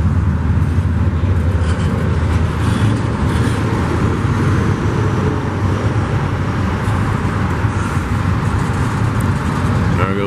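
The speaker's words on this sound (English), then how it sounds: "Hear all the creaking in the wheels and the axles and the suspension." Freight train cars rolling past after the locomotives, a loud continuous low rumble of wheels and axles with faint metallic creaks and squeals from the suspension, close by and unbroken.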